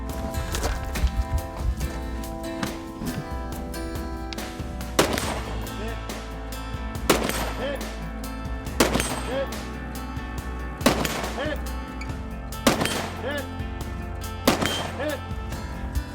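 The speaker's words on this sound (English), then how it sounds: "Load rifle and engage 6 rifle plates." Repeated rifle shots ring out against steel plates during a timed shooting stage. There are six or so sharp reports at fairly even intervals, each with a ringing tail, over a busy outdoor background.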